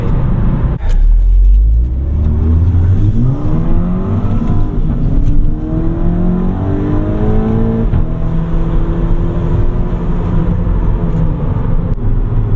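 A 2014 Volkswagen Mk6 GTI Driver's Edition, Stage 2 tuned with a K04 turbo, intake and downpipe, launching with traction control off. The loud engine climbs steadily through its revs and shifts up with wheel spin, heard up close and alone.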